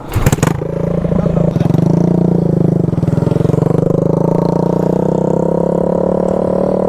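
A Bajaj NS200 motorcycle engine revs hard as the rider opens the throttle, a loud close buzzing roar that climbs and holds after a sharp clattery start.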